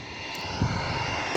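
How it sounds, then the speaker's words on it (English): A private jet taking off at an airport gives a continuous loud engine roar and whine that builds slightly toward the close, with no voices. "Also right now they take off private jet."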